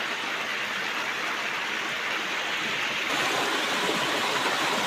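A waterfall pouring steadily beside a fishing spot, a dense rushing roar that stays even and fairly loud throughout, with no voices over it.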